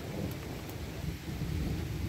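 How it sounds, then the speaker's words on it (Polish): Low continuous thunder rumbles through a storm, mixed with steady rain, heavy and enveloping with no voices. "ostatnie oznaki grzmotów"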